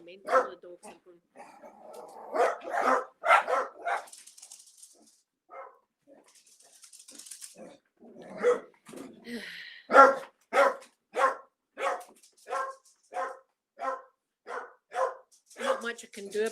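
Several dogs bark in a steady run of repeated, fairly close barks with some yips and whimpers, following earlier talk in a home.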